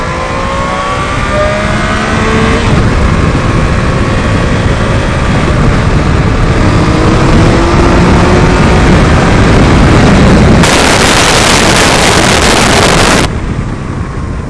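Heavy wind buffets a motorcycle rider riding on a freeway, a loud continuous roaring rush with engine drone beneath, briefly intensifying into a harsher blast before easing.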